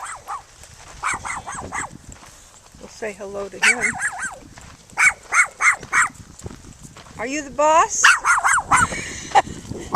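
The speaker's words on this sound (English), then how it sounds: "There's the little dog." A small dog yaps in short, sharp bursts at a vineyard, several quick barks in a row, mixed with people talking nearby.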